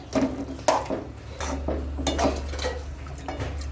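Masala khichdi being mixed in a pot with a spoon, several distinct metallic clinks and scrapes against the pan over a low continuous background hum.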